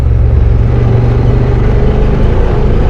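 A Honda Talon side-by-side with Live Valve shocks and Tusk 30-inch Megabite tires runs on a dusty Marienville forest trail, its engine droning steadily and loudly close by with a continuous low rumble and no voices.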